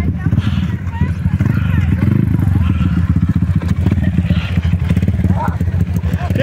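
A motorcycle riding along a dirt trail, its engine revving loudly and continuously close by with clattering over rough ground, while people talk excitedly over it.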